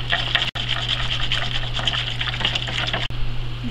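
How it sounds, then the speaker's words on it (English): Grapeseed oil trickles slowly into a vinaigrette while it is whisked, producing a steady liquid swishing and stirring sound that runs continuously and fairly close, with two brief dropouts. "You want to add the oil slowly while whisking like this."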